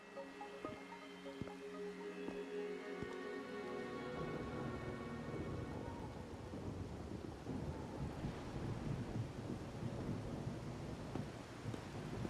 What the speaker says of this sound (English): If I wait more, will the rain stop?